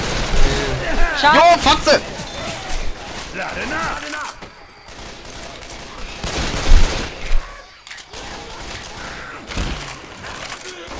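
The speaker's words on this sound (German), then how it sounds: "Marvin, nicht durchsprayen die Waffe." Weapon fire in the video game Left 4 Dead 2, bursts of rapid gunshots mixed with game noise while players shout and talk over it.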